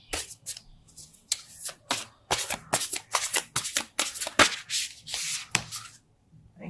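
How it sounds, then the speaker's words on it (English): A deck of large oracle cards shuffled repeatedly, crisp riffling bursts and soft slides close by, with brief pauses between rounds. "these cards are so big, they're hard for me to shuffle"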